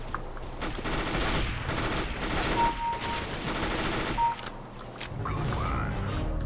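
Rapid bursts of submachine gun fire in a first-person shooter match, loud and dense, firing near-continuously with brief pauses and crashing impacts over about six seconds.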